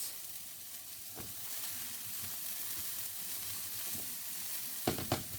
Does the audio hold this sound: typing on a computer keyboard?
no